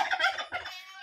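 A turkey gobbles in a quick, rattling burst, close by and clear, trailing off into a short fading tail.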